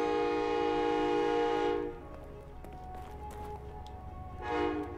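A train in the horror video game The Evil Within sounds a loud, sustained horn over a rumbling rail background, then cuts off, leaving clattering running noise before the horn briefly swells again.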